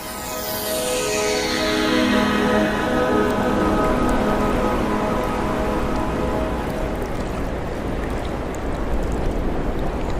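Dense, steady rain pours down as a documentary sound effect, opening with a brief falling whoosh before settling into an even, hissing downpour.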